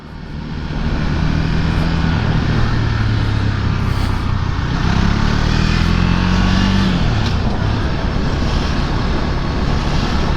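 Traffic on a road heard from a Husqvarna Svartpilen 401 motorcycle, with a steady loud engine and wind roar throughout and a vehicle's engine note rising and fading in the middle as it passes close by.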